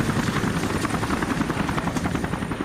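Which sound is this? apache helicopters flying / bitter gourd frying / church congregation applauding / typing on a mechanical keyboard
apache helicopters flying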